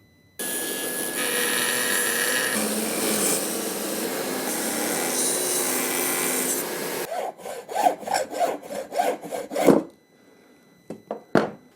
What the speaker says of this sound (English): I am about to Dremel a laminate stock.